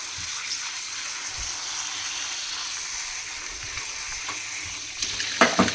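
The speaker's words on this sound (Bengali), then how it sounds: "পেঁয়াজ কেটে নিয়েছি এভাবে, এগুলো ধুয়ে নেবো" Cut onions being rinsed under a running kitchen tap, a steady mid-level stream of water with a few louder splashes near the end.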